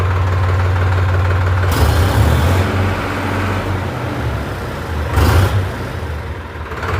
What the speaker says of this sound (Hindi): 3 सिलेंडर के हिसाब से काफ़ी अच्छी साउंड है ट्रैक्टर की